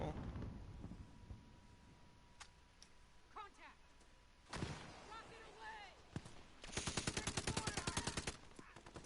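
Gunfire in an online shooter game, with scattered single shots and then a rapid automatic burst near the end, loud and close, while a person talks over parts of it.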